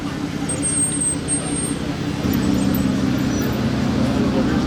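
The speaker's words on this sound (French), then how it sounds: "elle fait un bruit la M3 là" A BMW M3 drives past on a busy Juan-les-Pins street, its engine a steady low rumble that swells slightly midway, mixed with general traffic noise and some voices nearby.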